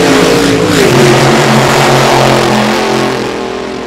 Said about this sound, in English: So a little bit of tire shake and on and off the throttle